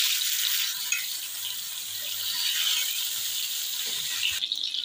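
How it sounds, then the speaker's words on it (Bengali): Snakehead fish frying in hot oil in a pan, a steady broad sizzle held at an even level throughout with faint kitchen clatter near the end. "মাছগুলো এক এক করে ভেজে নেব।"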